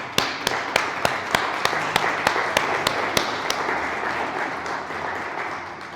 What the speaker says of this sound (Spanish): Así que vamos a darles un fuerte aplauso a los hermanos.